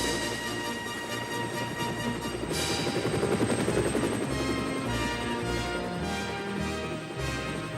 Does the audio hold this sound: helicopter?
yes